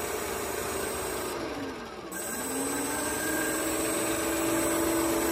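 A 3D-printed electric ducted fan turbine for an RC jet idles with a steady, close whirring whine and an airy rush. The pitch dips briefly partway through, then settles back to an even hum.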